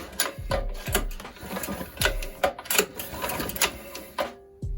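A Predator 212 small engine is pulled over slowly by its recoil starter, giving a handful of close mechanical clicks and ratcheting rasps at an uneven rhythm.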